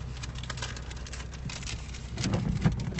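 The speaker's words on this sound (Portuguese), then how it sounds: "É que tá chovendo" Rain falling at night beside a car, a steady close patter with a heavier burst of drops and low rumble toward the end.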